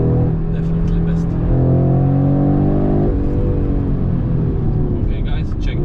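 A 2022 Audi RS3 in performance mode accelerates hard at full throttle, its engine climbing in a loud rising roar with a brief dip at a gear change before rising again, heard from inside the car with a voice speaking over it.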